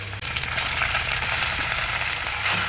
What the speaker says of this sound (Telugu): ఆయిల్ హీట్ అయింది. ఇప్పుడు ఇందులో ఫస్ట్ పుదీనా